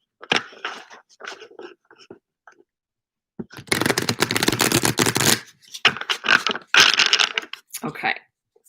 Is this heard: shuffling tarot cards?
yes